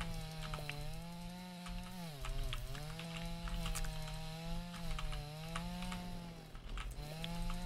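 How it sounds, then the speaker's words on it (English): A chainsaw cuts grass in the farming video game Dinkum, a steady buzzing engine tone that dips and rises in pitch as it bites, running continuously at moderate loudness with faint clicking alongside. "We're going to cut down some more grass with my chainsaw."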